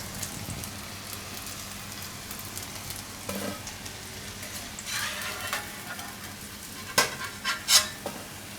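Bitter gourd (karela) frying in plenty of oil over a low flame for crispy kurkura karela, giving a steady close-up sizzle with a few stirring scrapes and louder clatters near the end, no voices.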